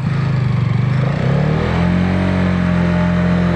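A Hero Karizma XMR Combat Edition motorcycle engine rumbles close by, its exhaust note holding steady and then lifting slightly in pitch as the revs climb, with no talking over it.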